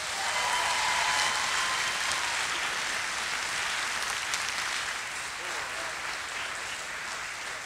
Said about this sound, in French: Vous pouvez vous applaudir bien fort